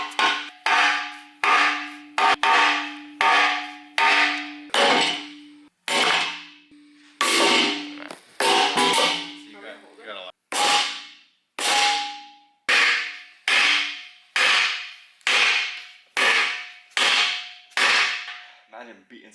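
Repeated hammer blows ring out on frozen solid aluminum parts being driven into an S13 rear subframe, a steady series of sharp metallic clangs, each decaying quickly, loud and close with no talk.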